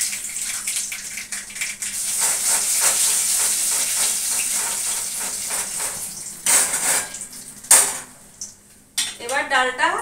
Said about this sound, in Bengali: আমডালটা ফোড়নের জন্য দিচ্ছি হচ্ছে 2টো শুকনো লঙ্কা ফোড়ন দিচ্ছি